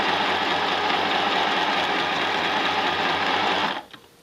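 A sewing machine runs in one steady, continuous burst while joining rag rug strip ends, a close, even mechanical hum with rapid needle rhythm that stops abruptly just before the end.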